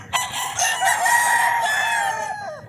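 Bulik gamefowl rooster crowing once, loud and close, a long harmonic cock-a-doodle-doo that rises and then trails off.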